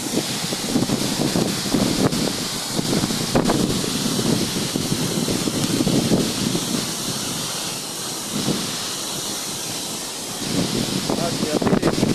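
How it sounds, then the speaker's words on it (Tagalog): Strong wind at a waterfall in Pangil, Laguna, roars and buffets the microphone in a steady, loud rush, with gusts swelling near the start and again at the end. "Grabe guys, ang lakas ng hangin."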